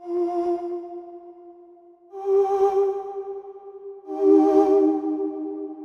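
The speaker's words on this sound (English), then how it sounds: "I added some voice samples as a layer, just reinforcing some notes during the intro section" Layered voice samples reinforcing chord notes in the intro of a production, three sustained sung tones with airy breath, each swelling and fading in turn.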